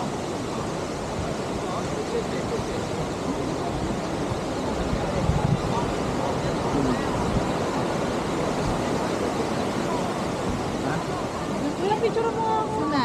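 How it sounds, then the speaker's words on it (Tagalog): A waterfall in a forest makes a continuous dense roar of rushing water, broad and even from start to finish. It stays loud and close, with faint voices under the noise. "waterfalls."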